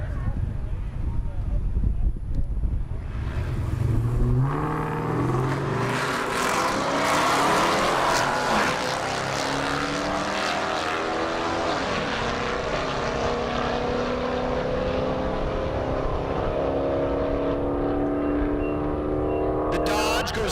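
A Dodge Magnum and a Chevrolet Camaro drag racing at the SRCA dragstrip in Great Bend, Kansas. Engines burble, then launch into a long, loud, rising roar that recedes down the track, with an announcer speaking over it.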